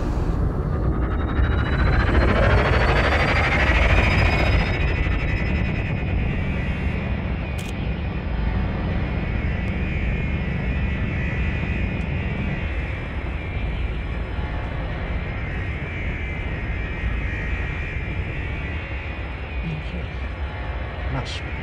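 A spaceship's engines power up slowly in Elite Dangerous, a steady loud rumbling roar with a rising whine that settles into a sustained hum, running throughout under a voice.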